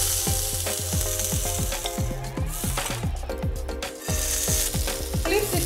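Tomato halves fry in hot oil with a loud continuous sizzle and crackle, punctuated by a regular series of ticking pops throughout.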